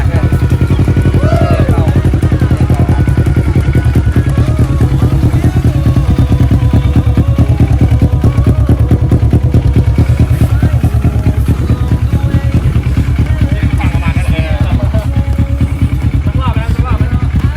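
A Kawasaki ER-6n motorcycle from 2015 runs close and loud, its engine thrumming in a steady, even pulse with light revving and mechanical clatter throughout.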